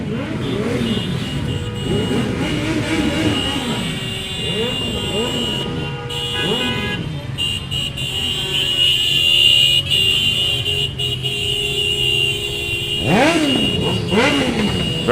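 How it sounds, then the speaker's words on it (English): A loud group of motorbikes rolls past in a Saint Patrick's Day parade in Balbriggan, engines revving and sweeping by one after another near the roadside, with a commentator talking over them. "we have a very noisy collection of motorbikes coming this way"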